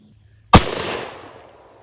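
A Beretta 1301 shotgun fires one loud, close shot of Super X 9-pellet buckshot at a target 30 feet away, a sharp blast followed by a short decaying echo.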